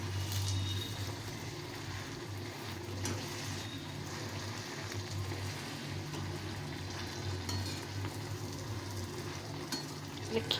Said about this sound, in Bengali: একটু চেপে চেপে ভাজতে হবে, তাহলে ভেতরটা কাঁচা থাকবে না।